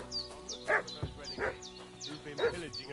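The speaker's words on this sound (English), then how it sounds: "What's that dog making such a fuss about?" A dog in the medieval video game Kingdom Come: Deliverance 2 barks and yips in a rapid run of sharp calls at mid distance, with game ambience underneath.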